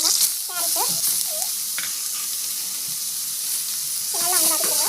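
Onion, green chilli and carrot sautéing in a pan make a steady sizzle with light stirring, while a voice talks intermittently over it near the start and end.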